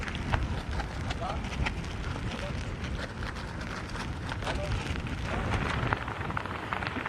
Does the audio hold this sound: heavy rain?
yes